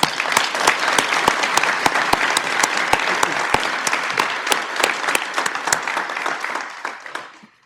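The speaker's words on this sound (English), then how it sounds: "Can we give her one more round of applause?" Applause at a Martin Luther King Jr. celebration as the audience claps again for a performer, dense crowd clapping with sharp individual claps standing out, tapering off near the end.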